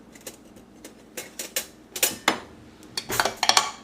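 Metal cutlery clinks and taps against dishes as a spoon is picked up in a kitchen while Korean kimchi is prepared. The sharp, close clicks come in irregular small bursts with no talking.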